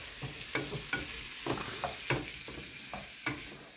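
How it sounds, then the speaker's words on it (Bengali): Shrimp and greens cooking in a pot, stirred with regular scraping strokes over a soft, continuous sizzle, fairly quiet and close. "দেখো নাড়া দাও"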